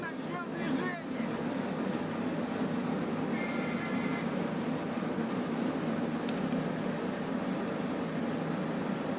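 Tram rolling along in the Escape from Tarkov video game, a steady loud rumble of rail wheels and carriage noise filling the whole stretch, with a brief faint tone partway through.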